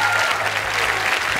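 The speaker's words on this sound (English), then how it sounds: "please give a huge round of applause for our host of the Space Academy, Jason Isaacs." Audience applause at a live London space-themed stage event, a dense burst of clapping that fills the short clip, with a little crowd noise mixed in.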